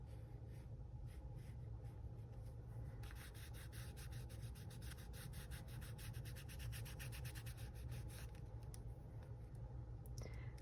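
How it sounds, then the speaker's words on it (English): A brush rubs back and forth over a painted page to smooth out stroke marks, a faint close scratchy swishing that turns into a fast run of repeated strokes midway, with no talk. "Rub it a little bit to get rid of those stroke marks."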